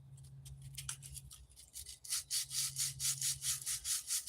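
A knife blade is sharpened by hand to add more chamfer to its edge, giving rasping strokes that start sparse and become a steady, louder back-and-forth rhythm, with a low hum underneath.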